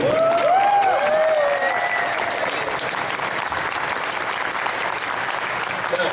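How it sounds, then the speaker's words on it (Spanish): A convention crowd in Mexico City applauds loudly and steadily for actor Ray Park at a toy convention, with a couple of whistles rising over the clapping near the start. "Vamos a darle un aplauso muy fuerte a Ray Park"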